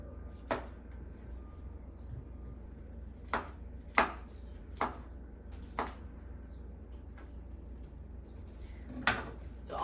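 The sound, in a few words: knife chopping mushrooms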